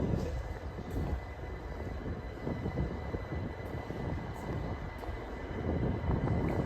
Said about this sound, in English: the train's coming, right?